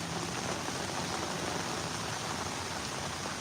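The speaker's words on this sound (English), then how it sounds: "the rain comes down heavier" Heavy rain falls outdoors in a steady, dense hiss that holds even throughout, with no talk and no distinct drops.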